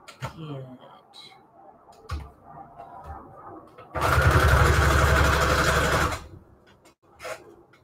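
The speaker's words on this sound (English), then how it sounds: "I'm doing straight stitch just for the look, honestly." An old sewing machine runs a straight stitch in one loud burst of about two seconds, between quieter handling clicks and taps while scraps are prepared for junk journal embellishments.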